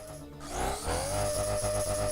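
Drill and saw tools in the game Nimbatus give a steady, loud mechanical whir with a rising tonal whine that settles into a continuous grinding hum, with no talk.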